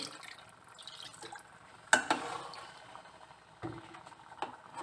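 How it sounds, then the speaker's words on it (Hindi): Water poured into an aloo baingan curry, with soft splashing and a sharp splash near the middle, then quieter dripping and trickling, faint and close. "3 कप पानी ऐड करेंगे।"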